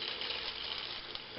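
An egg fries in a pan. A soft, steady hiss of sizzling oil continues evenly throughout at low volume.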